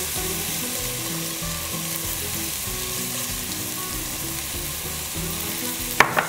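Onions frying in olive oil sizzle with a soft, steady crackle close by, under a faint background hum, ending with a couple of sharp clicks as if stirred.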